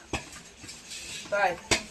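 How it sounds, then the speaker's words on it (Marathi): Dishes clatter as they are washed: a few sharp clinks of metal plates and cutlery, with a brief murmur of voice in between. "इथं आत्या आणि नानी भांडी घासतात"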